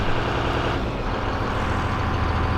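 A Cummins diesel truck engine idles steadily after its high-idle setting is switched off, giving a continuous close, loud low rumble with no talking.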